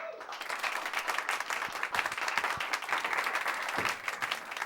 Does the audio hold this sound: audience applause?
yes